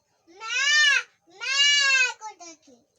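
A voice imitates a goat with two long wavering bleats, followed by a few shorter trailing sounds.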